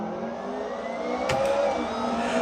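A touring car idles and revs on the starting grid of a racing sim video game, a steady mid-pitched engine drone with a brief sharp click partway through, no talking.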